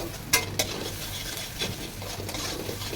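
Spices for a roast being sautéed in a pan, with frying onions, sizzling steadily while a spoon stirs and scrapes, giving a few sharp clinks near the start, close and moderately loud.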